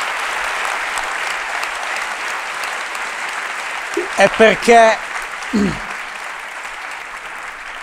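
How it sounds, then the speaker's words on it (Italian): A steady wash of audience applause fills the whole stretch, with a few short spoken words cutting in over it near the end. "ho chiamato l'applauso perché secondo me ci stava"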